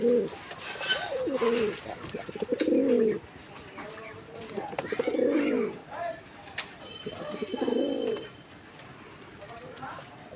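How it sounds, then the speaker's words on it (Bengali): Pigeons of a Moyna flock coo in close, repeated low throaty phrases, heard alongside people talking nearby. "দুইটা কবুতর কিন্তু মাশাআল্লাহ অরিজিনাল ময়না ঝাঁক"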